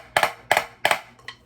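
MuseScore drum playback of a flam: each stroke splits into two clearly separate quick hits. Three such doubled strikes come in a steady row, then a softer fourth pair closes it, with no voices.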